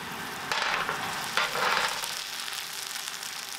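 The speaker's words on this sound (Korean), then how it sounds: "보이죠? 이렇게 옆에가 튀기듯이 보글보글 해야 되는데." A kimchi and pork belly pancake fries in a pan on a gas burner, a steady close sizzle that flares into louder crackling bursts twice before settling into a constant hiss.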